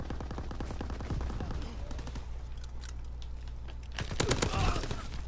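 Rapid gunfire rattles in a Call of Duty WWII match, bursts of close shots over a low rumble, with a louder cluster near the end, while a voice talks over it.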